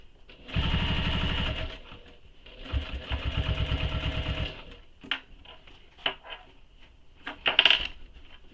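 An industrial sewing machine stitches a satchel in two long, steady bursts of rapid mechanical clatter, then quiet clicks and taps as the fabric is handled between runs.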